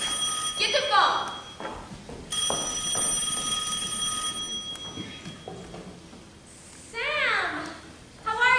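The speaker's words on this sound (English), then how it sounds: "Get the phone." On a school stage during a play, an old-style telephone bell rings in short trilling bursts between lines of dialogue, clearly audible with actors speaking around it.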